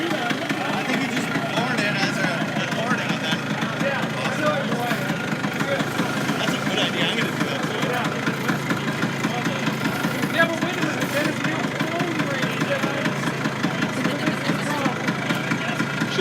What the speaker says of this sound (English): the trick is to ride way behind or ride in front of these two-stroke scooters